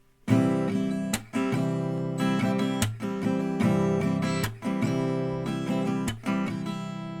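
Acoustic guitar strummed in a steady down-up pattern, broken by sharp percussive slaps on the strings at regular intervals, played alone and fairly close.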